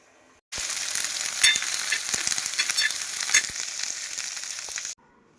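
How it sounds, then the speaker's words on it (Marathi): Masala spices dry-roasting on a hot tawa give a steady, close crackle and sizzle that starts abruptly and runs for about four seconds before cutting off. "इकडे मसाला भाजण्यासाठी तवा ठेवलेला आहे तर चला मी मसाला भाजून घेणार आहे"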